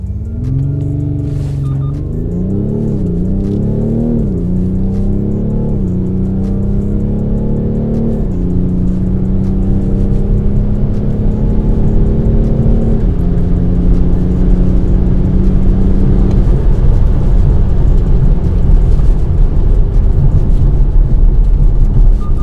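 A BMW X5 M50d F15 in Sport Plus mode with stability control off launches hard from 3000 rpm, its diesel engine droning loud and close as it climbs through several gear changes, each marked by a dip and renewed rise in pitch.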